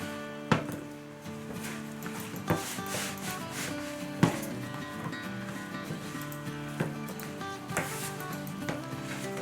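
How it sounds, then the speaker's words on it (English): Pizza dough is mixed by hand in a bowl for New York style pizza, with close rubbing, scraping and squeezing strokes and several sharp knocks against the bowl, and no voices. "Kind of scraping the bowl at the same time I'm squeezing, just squeezing that stuff together."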